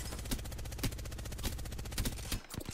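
Gunfire in the Apex Legends video game around a Kraber sniper rifle: several sharp shots about half a second apart, heard fairly faint.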